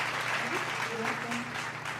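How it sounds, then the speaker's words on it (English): A studio audience claps steadily in a dense wash for a film's producer, with a voice faintly audible underneath. "Applause."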